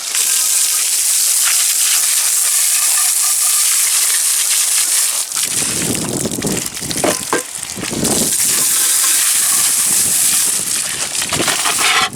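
Water gushes steadily from a tap as cleaned cast iron pieces are rinsed, a loud, continuous hiss with splashing surges as the pieces are moved under the stream.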